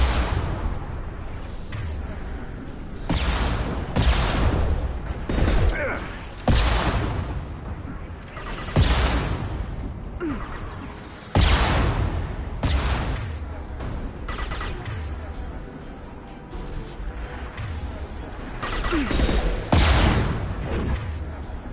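Weapon fire in Mass Effect 2 Legendary Edition, a run of loud, sharp shots in irregular bursts with short gaps, close and punchy over a low rumbling game backdrop, no voices.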